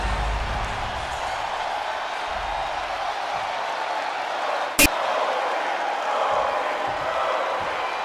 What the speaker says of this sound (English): Capacity crowd here in Toronto.